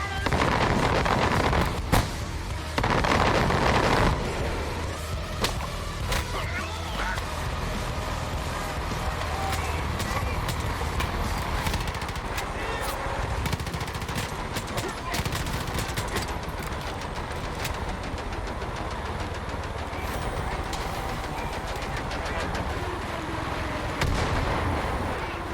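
Heavy gunfire fills a Far Cry video game firefight, dense overlapping shots and booming blasts at high volume that go on without let-up, with voices shouting over the battle.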